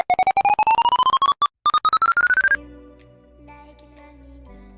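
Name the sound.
mobile phone sound during software installation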